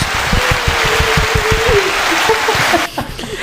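A small group claps in a round of applause for guests on a talk show, quick dense clapping close by for about three seconds before it fades out.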